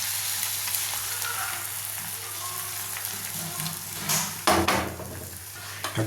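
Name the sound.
beaten egg frying in oil in a pan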